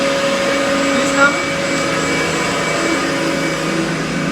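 A washer extractor laundry machine running its spin cycle at 750 RPM gives a steady, loud mechanical whir with a constant motor hum that barely changes throughout.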